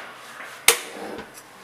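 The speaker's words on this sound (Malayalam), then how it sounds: "ഇനി ഗ്യാസ് കത്തിക്കാം" A gas stove is lit for heating water for black tea: a single sharp igniter click, then a soft brief whoosh as the burner catches, quiet and close.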